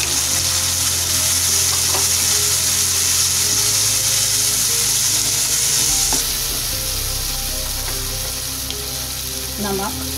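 Tomato, red chili and garam masala fry in a pan for vegetable pulao, with a loud continuous sizzle and scraping stirs, a brief clunk, the bubbling easing slightly toward the end.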